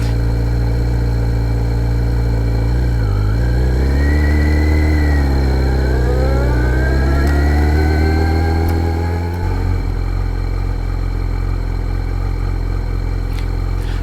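A Kawasaki Ninja 1100SX fitted with a full Akrapovič exhaust and ECU tune rumbles loud and close while riding through a Seattle park, its engine tone rising and falling through gear changes before settling into a steady drone.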